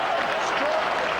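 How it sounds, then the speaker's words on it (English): Crowd applauding at a crown green bowls match, a steady dense wash of clapping that fills the whole moment without letting up, with a faint background voice mixed in. "listen to that applause"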